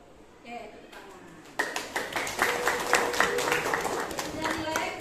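A class of students clapping hands together in a classroom, a burst of many overlapping claps starting after a brief quieter lead-in and continuing steadily, with some voices mixed underneath.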